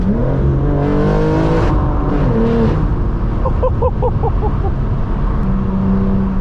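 A Porsche GT4 RS flat-six rumbles past on the road, its engine tone climbing and shifting as it draws near and then away, loud against steady background road noise with no talk over it.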